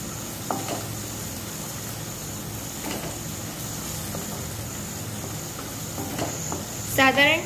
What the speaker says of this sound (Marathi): आता आपण यात घालणार आहोत बारीक चिरलेला टोमॅटो आणि पुन्हा तेलात व्यवस्थित परतून घेणार आहोत